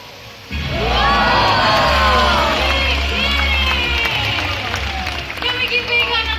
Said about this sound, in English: Can we give Vega another round of applause, everyone?